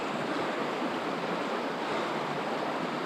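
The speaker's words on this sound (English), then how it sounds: "It's a really decent flow of cold water." A cold mountain trout stream rushes steadily nearby, a dense, even wash of flowing water with no breaks and no voices.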